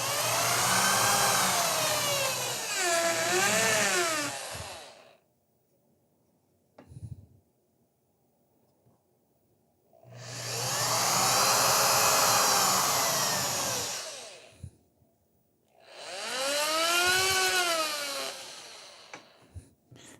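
A power drill fitted with a new bit bores holes sized for a 10 mm (3/8 inch) tube, whining up to full speed in three long, loud runs separated by quiet pauses and a few small knocks.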